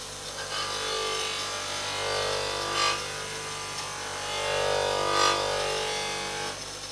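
A power polisher buffs aluminium trim on a BOSS XC car with a continuous motor hum and a soft rubbing whir that swells slightly as pressure shifts.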